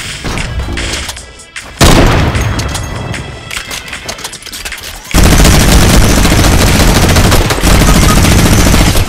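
Rapid video game gunfire in bursts, loud and close, with heavy booming shots and a sustained dense volley in the second half.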